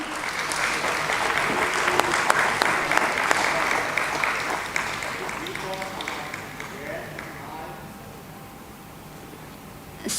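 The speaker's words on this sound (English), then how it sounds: "A big round of applause, everyone." Audience applause at a stock exchange listing ceremony for Resgen Limited and ITCONS E-Solutions Limited, a steady crackle of many hands that runs loud, then thins and fades toward the end.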